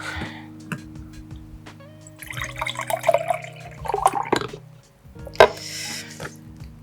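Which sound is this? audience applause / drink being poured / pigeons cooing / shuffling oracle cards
drink being poured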